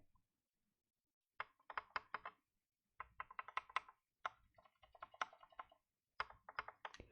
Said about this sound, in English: That's the sound of the keys. They very much so lack a click